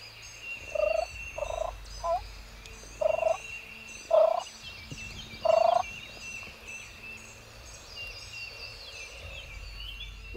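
Wild turkey gobbles carry from a distance during a Tennessee spring hunt, six short bursts spaced a second or so apart, then fading into quiet woodland background.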